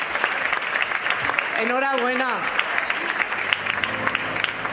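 An audience at a parliamentary talk show set in a retirement home applauds steadily, dense clapping throughout while someone briefly speaks over it.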